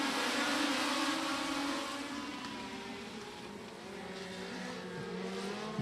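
Short-track race cars roaring at the start of a local-class heat race at Beckley Motor Speedway, a dense, loud engine drone from several cars that stays steady, then eases slightly and swells again as the pack accelerates.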